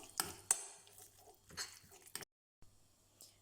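A few soft clinks and scraping taps of a spoon against a bowl, close by, as tomato paste is stirred into satsebeli sauce, then a short silence and faint rustling.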